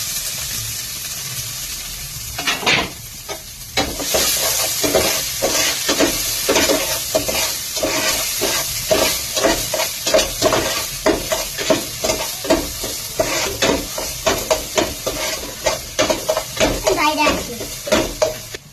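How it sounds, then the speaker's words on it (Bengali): Chopped garlic and ginger frying in a little white oil for momo soup, a continuous sizzle broken by many rapid rhythmic scrapes of a spoon stirring in the pan, close and fairly loud throughout after a quieter opening. "অল্প করে সাদা তেল দিয়ে দিলাম, দিয়ে রসুন কুচি, আদা কুচি"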